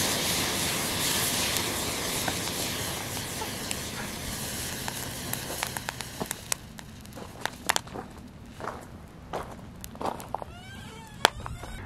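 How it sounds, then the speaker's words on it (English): A magnesium strip ignites thermite made from battery powder in a pan, a loud continuous roaring hiss for about six seconds that then breaks into sharp scattered crackles and pops as the reaction dies down. "Let's light it up. There goes the magnesium strip."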